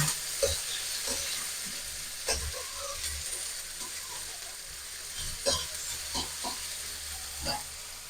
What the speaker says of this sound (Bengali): পেঁয়াজটা যতক্ষণ ভাজা হচ্ছে ততক্ষণ আমি এখানে